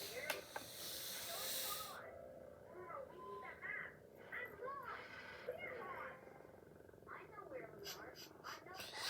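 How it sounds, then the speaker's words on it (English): A train engine in a video game lets out a breathy steam hiss at the start, followed by a voice speaking over quieter game sounds. "Mavis is puffing steam,"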